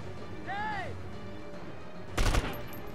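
Gunfire in the PS2 video game 24: The Game, a single sharp burst of shots standing out briefly against a steady background mix with a rising tonal sweep beforehand.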